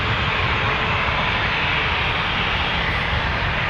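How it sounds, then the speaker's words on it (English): A plane landing at Toronto Pearson airport gives a continuous, loud engine roar that stays steady and close throughout, with no talk over it. "Beautiful landing."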